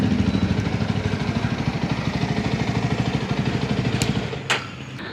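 A Yezdi Roadster motorcycle exhaust idles with a rapid, steady throbbing pulse, loud and close, then fades slightly near the end after a brief sharp pop.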